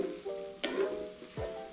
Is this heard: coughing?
no